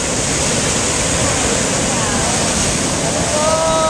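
Ocean waves surge into a lava rock pool along the shore, a loud, continuous rushing wash of churning water that fills the whole stretch with steady roar and wind buffeting the microphone.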